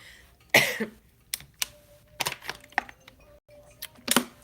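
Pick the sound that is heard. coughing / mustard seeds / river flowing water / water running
coughing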